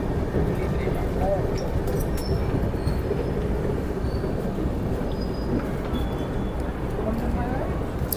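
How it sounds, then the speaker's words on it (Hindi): A Link Express train rolls into platform 5 at Laksar Junction, a steady rumble of wheels and carriages with faint squeals, while a voice talks over the continuous, close train noise. "लक्सर पर प्लेटफॉर्म नंबर 5 पर हमारी ट्रेन का अराइवल हो रहा है"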